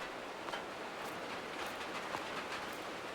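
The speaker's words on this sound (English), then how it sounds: "It sounds like it is. Yes, it is raining." Steady rain in Farming Simulator 22 patters on a surface, a dense continuous hiss with scattered droplet ticks and no voices, even in level throughout.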